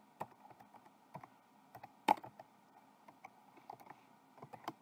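Numbers are typed on a computer keyboard, with irregular light clicking keystrokes and one sharper tap in the middle, close and quiet in an otherwise silent room.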